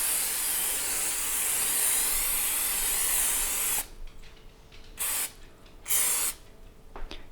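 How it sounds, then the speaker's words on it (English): Cooking spray hisses into an 8-inch cake pan in one long, loud, steady spray, followed by a few shorter bursts with quiet gaps between them. "spray your 8-inch cake pan with cooking spray, as I'm doing here"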